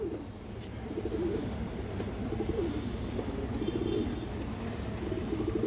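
Several red-eyed pigeons coo in soft, repeating, low bubbling phrases, close by and steady, with faint chirps and rustling in the background.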